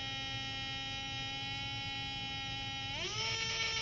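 A small DC motor runs steadily at around 5.8 volts with a constant electric whine and harmonic hum, then its pitch rises smoothly near the end as it speeds up. No one speaks.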